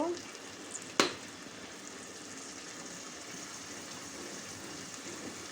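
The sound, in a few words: turmeric, chili, coriander, cumin added to frying loitta curry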